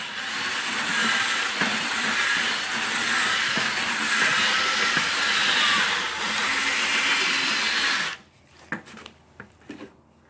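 A power mixer churning an aircrete mix, a loud steady grinding whir for about eight seconds that cuts off abruptly, followed by a few faint clunks and knocks.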